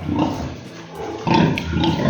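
Pigs on a farm give a few close, loud grunts and oinks in short bursts, with a brief pause between the groups.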